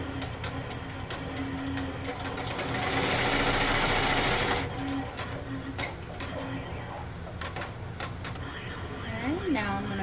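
An embroidery machine stitches an applique with a rapid, steady mechanical ticking and whirring that swells louder in the middle, up close, while a person talks over it.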